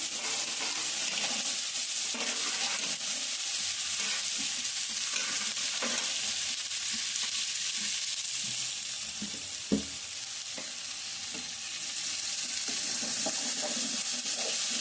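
Sliced onions fry with green chilies in a pan, giving a steady, moderately loud sizzle punctuated by regular spatula stirs and one sharp knock midway.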